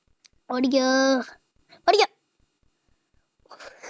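A man imitates a dog with his own voice: one drawn-out howling yelp, then a short sharp bark, followed by quieter breathy vocal noises, all close to the microphone against silence.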